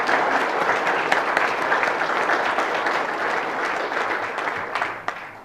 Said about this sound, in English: Let's give these folks a round of applause for all they do to protect our children.